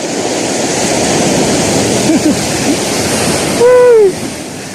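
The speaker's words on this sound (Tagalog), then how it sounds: "Laki na alon mga kaidol." Heavy ocean surf roars continuously, loud and close with strong wind buffeting, while a voice speaks briefly in Filipino over the crashing big waves.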